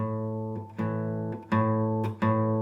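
Several guitar strums ring out one after another, sustained chords with a muted, dull top where the high note is missing, and no talking.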